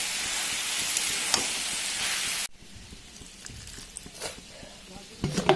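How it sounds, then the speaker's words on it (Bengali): Jackfruit, meat and soybeans sauté with meat masala in a pan, first as a dense steady sizzle, then a quieter crackle with occasional stirring clatter toward the end; no talk. "এবার সব কিছু একসঙ্গে ভালো করে কষিয়ে নেব"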